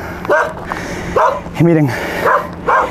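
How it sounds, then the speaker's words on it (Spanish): Dogs bark aggressively in a hillside neighborhood in Lima, Peru: several short, loud, yelping barks come in bursts over about three seconds, mixed with someone talking nearby. "Y acá los perros se notan agresivos."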